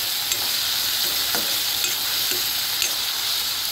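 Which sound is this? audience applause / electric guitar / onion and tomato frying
onion and tomato frying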